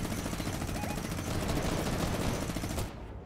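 A minigun fires continuously in the Fortnite video game, a dense, rapid rattle of shots that fills the clip and cuts off near the end.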